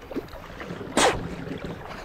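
A single paddle stroke from a cheap Walmart kayak on a lake gives a brief splash, with soft wind and water noise around it, near and fairly faint.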